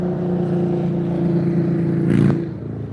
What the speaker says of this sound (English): People on their loud motorbikes.